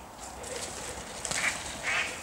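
Birds sounding an alarm call beside a fishing bay, a few harsh quacking calls at moderate distance over a steady outdoor background, with no talking.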